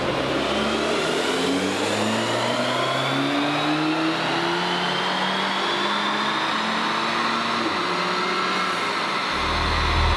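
Audi S3 with a stage 1 tune and new intake revving on a dyno, its engine climbing steadily in pitch through the gears as a long, loud acceleration pull, then dropping off at the end.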